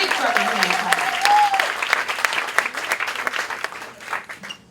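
An audience at a two-year anniversary event for a spoken-word venue breaks into applause for the event staff, lively clapping with a few whoops and voices mixed in, thinning out toward the end.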